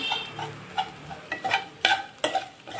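A spoon scrapes and clinks through ground paste folded into dondakaya (ivy gourd) curry in a pan, in short irregular stirring strokes, close and alone.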